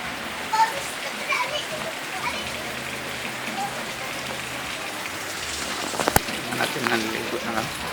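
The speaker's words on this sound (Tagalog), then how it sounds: "Umuulan na ng malakas" Heavy rain pouring steadily as a broadband wash, with a sharp brief knock near the end and faint children's voices in the distance.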